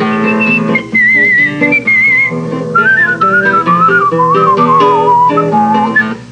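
A person whistles a lilting melody alone, clear and close, with quick gliding notes and brief breaths between phrases.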